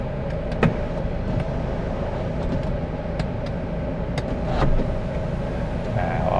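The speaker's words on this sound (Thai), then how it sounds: "สำหรับตัวหลังคาเนี่ยก็สามารถเปิดได้อีกนะครับ" Glass sunroof on a 2018 Ford Everest 2.0 Bi-Turbo 4WD opening, a soft steady electric motor whir running for several seconds inside the cabin with a few faint clicks, no talking over it.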